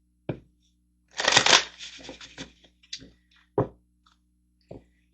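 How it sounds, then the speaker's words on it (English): Tarot cards being shuffled, with a dense riffling burst in the middle and several short single card snaps and taps on either side, close and clear, with no voice. "So let's get a tarot card on that."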